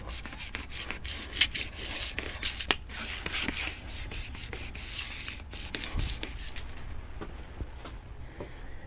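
Continuous hand sanding scrapes across the fiberglass tri-hull of a Thunderbird boat under restoration, a steady close rasping with rhythmic strokes and no voices.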